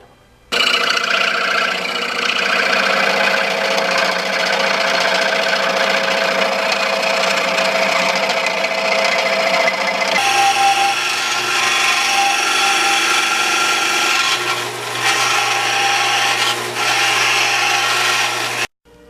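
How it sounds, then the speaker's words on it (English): A power tool grinds steadily along the edge of a metal mirror block-off plate, a loud continuous abrasive whine lasting many seconds, with a brief shift in tone midway as pressure changes; no talking. "then I grind the edge, but I leave the pen line on"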